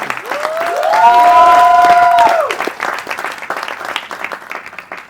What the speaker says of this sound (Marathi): जोरदार टाळ्या प्रिया मॅम साठी झाल्या पाहिजे पुन्हा एकदा